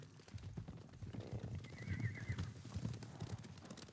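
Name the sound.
horses approaching in the video game Ghost of Tsushima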